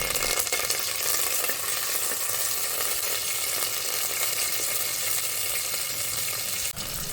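Mustard seeds and curry leaves sizzle in hot coconut oil for a chicken curry, a dense, steady frying hiss with faint crackles throughout, close and loud.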